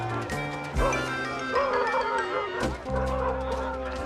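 A dog barks repeatedly and loudly at close range, mixed with clucking chickens and a background music bed, at an outdoor contest of dogs.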